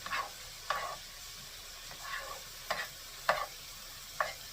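Onions, garlic and mixed vegetables cook in a pan for onion beef fried rice. About six short scraping stirs sound up close over a soft, continuous low sizzle.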